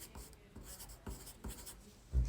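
Two pencils scratch across paper together in short rhythmic strokes, close and dry, with brief pauses between words being written.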